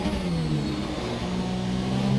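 Formula 1 car engine in the F1 2017 racing game, held at a steady high-pitched whine through a flying lap, loud and continuous with no talk over it.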